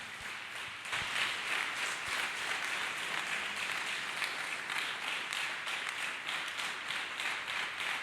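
Church congregation clapping hands for Jesus, a brief hush then a sudden burst of many hands that settles into a steady, sustained round of applause.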